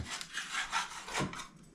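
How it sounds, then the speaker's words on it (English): Rhythmic scratchy rasping strokes of sandpaper rubbing back and forth on wood, close up, several quick passes in a row. "I'll do this bit of sanding"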